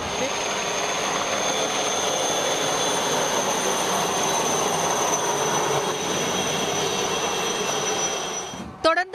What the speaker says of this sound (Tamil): வானில் இருந்து ஹெலிகாப்டர் மூலம் மலர்கள் தூவப்பட்டன